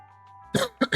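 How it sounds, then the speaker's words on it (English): Three harsh coughs close to the mic, one longer burst followed by two quick ones, after a moment of quiet. "I got cough. I cough."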